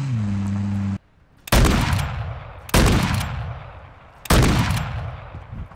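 Three sharp, loud gunshot blasts in Call of Duty: Warzone Mobile, spaced about a second and a half apart, each with a booming tail, following a short electronic tone.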